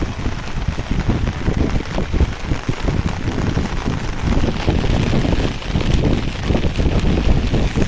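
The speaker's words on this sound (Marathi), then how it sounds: "पाऊस काय कमी होत नाही" Steady heavy rain pours at Mandangad fort, a dense continuous hiss of drops on surfaces with gusts of wind buffeting the microphone throughout, loud and unbroken with no voices.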